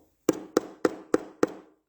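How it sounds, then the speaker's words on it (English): Knocking at a door: five evenly spaced, close, sharp knocks in a steady rhythm, alone with no talking. "One day, somebody knocked at the door."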